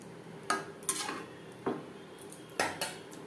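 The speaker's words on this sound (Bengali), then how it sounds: "গ্রেভির সাথে বেশ ভালো করে মিক্সড করে দেব" Boiled eggs are stirred into curry gravy in a pan for egg curry, with a metal spoon clinking and scraping against the pan in a handful of separate strokes, close but fairly quiet.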